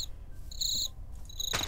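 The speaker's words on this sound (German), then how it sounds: "Die Grillen." Crickets chirping in the game Minecraft, a close, bright chirp sounded in short repeated bursts with brief gaps between them, and no voices.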